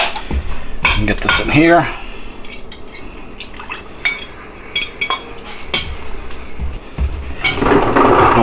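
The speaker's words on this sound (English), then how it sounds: "We'll stir this in." Waffle batter with milk is stirred in a bowl, a utensil clinking and scraping against the dish in a busy rhythm close by, with short bursts of talk at the start and end.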